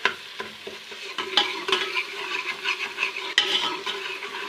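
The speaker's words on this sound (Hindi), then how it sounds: "लहसुन अदरक का पेस्ट उसको हल्का सा हम सोटे कर लेंगे" Garlic ginger paste sizzling and sautéing in a hot pan, with steady frying crackle and a few sharp scrapes and clinks of a spoon stirring.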